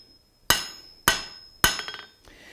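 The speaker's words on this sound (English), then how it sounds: "as we're hammering this, if we're hammering the head of the nail" Three sharp, ringing hammer blows land on a nail head held in a blacksmith's nail header, each strike about half a second apart and left to decay briefly before the next.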